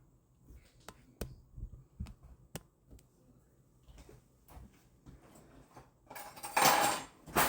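Metal spoon clinking against a pot of homemade chicken and dumplings in a home kitchen, several sharp separate taps and scrapes spread out, then a louder burst of clatter at the end.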